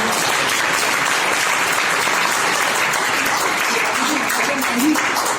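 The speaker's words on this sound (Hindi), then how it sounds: "रामजी महाजन जी के लिए जोरदार तालियों" Loud, dense applause fills a hall for Ramji Mahajan, a steady wash of many hands clapping continuously from start to end.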